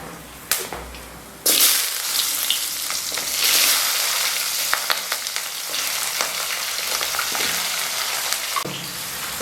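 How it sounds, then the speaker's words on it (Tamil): Mustard seeds, curry leaves, green and dried chillies and onions crackle in hot oil while tempering for brinjal tamarind kuzhambu, a loud, continuous close sizzle with occasional stirring scrapes, no voices. "கடுகு போட்டு தாளிச்சுக்கிறோம் தாளிச்சுட்டு கருவேப்பில போட்டுட்டு பச்சை மிளகா காஞ்ச இது வெங்காயமெல்லாம் போடுறோம்"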